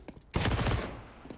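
A single loud gunshot burst from a pistol in the video game CS:GO on the Mirage map, a sharp crack with a brief decaying tail, alone.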